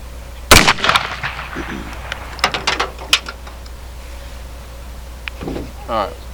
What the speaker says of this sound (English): we're going to send one downrange and see what this does.